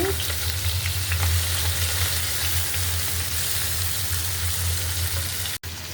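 Fish fries in hot oil in a pan as the pieces are turned, giving a loud, steady sizzle that runs throughout with a low hum beneath and a brief cutout near the end.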